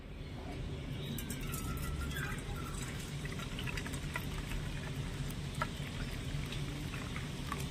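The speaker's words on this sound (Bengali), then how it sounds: "ঠিক 1 বাটি গরম জল আমি দিয়ে দিচ্ছি।" Boiling hot water pours from a measured bowl onto sago in another bowl, giving a steady, close liquid rush with light splashy detail throughout. No one speaks.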